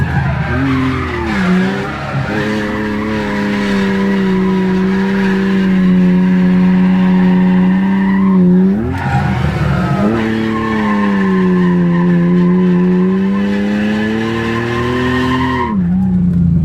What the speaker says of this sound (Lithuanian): Tai driftas.